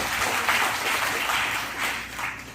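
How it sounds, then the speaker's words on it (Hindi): An audience at a training session on cow-based products in Azamgarh claps for themselves, dense steady applause from many hands filling the whole stretch without a break. "अपने लिए एक जोरदार ताली बजाएं"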